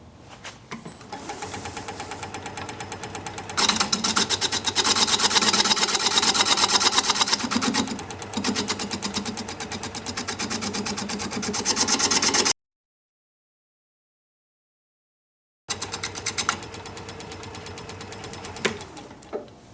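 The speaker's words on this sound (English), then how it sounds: "I'm going to try and make one final cut with my gouge." A wood lathe spins steadily as a gouge takes a final cut, giving a continuous buzzing whir that grows louder in the middle. The sound cuts off to silence, then resumes.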